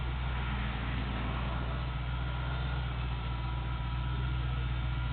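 A Triumph TR7/8 engine runs at a steady idle, a constant low hum and rumble heard close and unchanging throughout.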